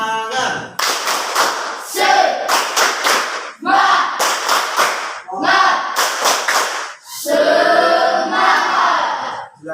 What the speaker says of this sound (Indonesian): Kita kasih tepuk semangat.